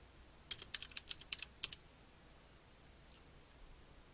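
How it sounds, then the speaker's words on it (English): About eight quick, faint keystrokes on a computer keyboard land in a short burst early on, followed by near silence. "Just type in your text for your lesson."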